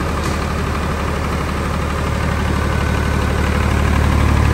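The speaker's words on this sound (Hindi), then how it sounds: "ये देख सकते हैं हाफ सेल्फ जनरेटर स्टार्ट हो चुका है," A 35 kVA Escorts diesel generator engine, running without its canopy, idles steadily and close with an even, continuous thrum and no voices over it.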